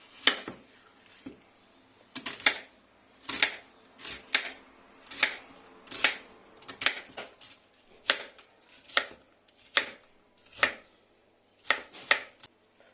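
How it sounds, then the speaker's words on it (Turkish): A knife chops onion in a home kitchen: a steady series of about a dozen and a half crisp, close strikes against a board, some in quick pairs, with quiet gaps between them. "Soğanı doğrayarak başlayalım."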